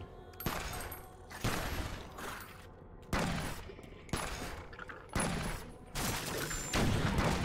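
Gunfire aimed at targets in the video game Secret World Legends, heard as bursts of rapid shots that come in repeated clusters with brief pauses between them, loud and close, and no speech over them.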